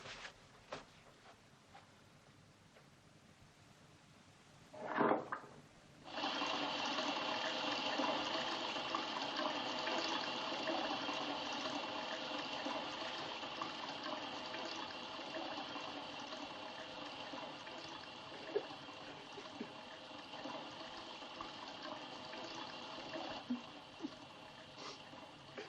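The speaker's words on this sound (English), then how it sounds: "I'll run the tub." Water gushes into a bathtub as it fills: after a brief splash, a steady rushing stream runs on at moderate loudness for over twenty seconds, unbroken and with no talk.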